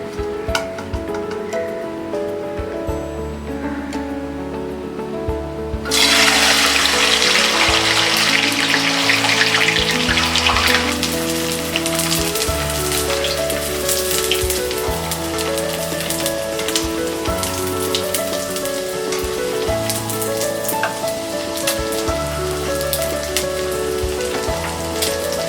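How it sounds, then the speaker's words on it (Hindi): Sago pearls sizzle and crackle in hot oil in a kadai, with a dense, rain-like hiss that swells sharply partway through and then settles into a steady frying crackle. "अब हम साबूदाना फ्राई करेंगे।"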